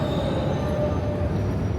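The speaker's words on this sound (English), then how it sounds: "When the train arrives" An underground train pulls into a London Underground station at Canary Wharf as a steady low rumble with a faint high whine, close and continuous with no voices.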